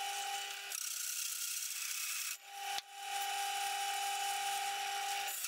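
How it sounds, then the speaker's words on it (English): A 60mm hole saw cuts through wood to make knobs, giving a steady, loud grinding whine with a brief dip midway before the cut resumes at full strength. "I've changed over now to a 60mm hole saw, and I'm going to cut"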